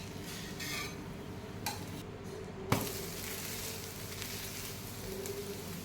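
A cucumber dosa cooks in oil on a pan over a slow flame with a faint, steady sizzle. One soft metallic clink stands out midway.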